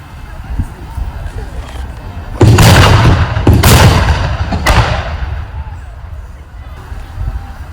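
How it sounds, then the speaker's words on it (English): Artillery bombardment at a Civil War reenactment: several heavy cannon booms in quick succession, loud and rolling, over a murmuring crowd and distant chatter, fading back to background voices afterward. "They've begun the bombardment of the Confederate position."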